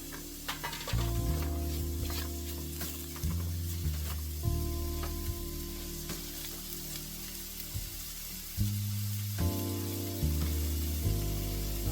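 Mushrooms fry in a pan with a steady, close sizzle. Periodic scraping and stirring bursts break in as they are turned, and no voices are heard.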